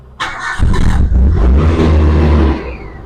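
A 1995 Daihatsu Espass car engine cranks briefly and fires, then settles into a steady, close, loud idle rumble with no one speaking.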